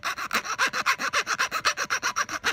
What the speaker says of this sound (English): I'm gonna use that filing iron. I'm gonna file them down,